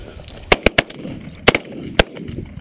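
Shotgun blasts ring out at incoming birds during a hunt, five sharp reports in quick uneven succession, loud and close, with faint outdoor background between them.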